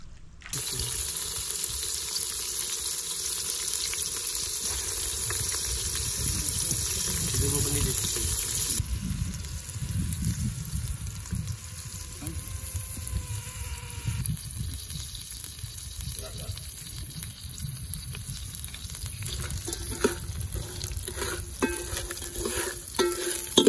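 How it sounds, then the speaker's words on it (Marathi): Small crabs dry-fry in a pan, a steady sizzling hiss with stirring and scraping that runs throughout while people talk over it. "आता हा एकदम सुक्का फ्राय करायचा आहे"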